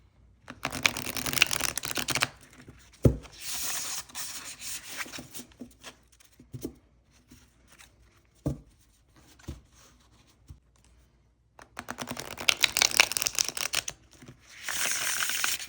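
Tarot cards shuffled by hand, crisp riffling bursts alternating with quieter stretches of soft taps and slides, close and fairly faint.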